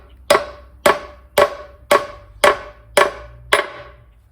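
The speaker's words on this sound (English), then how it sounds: "we'll use our friendly hammer again and just tap these out" Seven sharp metallic hammer taps ring out at an even, steady pace as brass flanges are knocked out of a Gravely Professional G Series rider transmission, each strike loud and close with a brief ringing decay.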